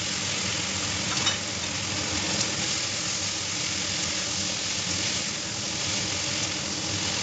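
Chopped onions and tomato with a little sugar fry in a pan with a steady, moderate sizzle that runs unbroken and alone throughout.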